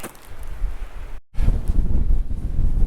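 Heavy coastal wind buffets the microphone in loud, rumbling gusts on a clifftop path near Durlston Bay, briefly cutting out, then returning even stronger.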